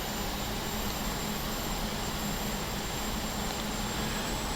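A Saab SK60 jet's engine roars steadily in flight on the downwind leg, a loud, unbroken rushing drone heard from inside the cockpit, with no talking.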